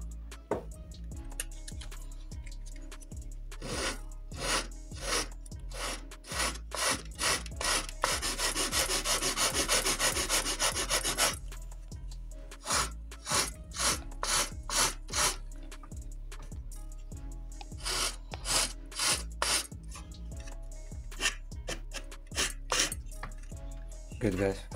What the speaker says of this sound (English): Now I will just sand it down right here a bit.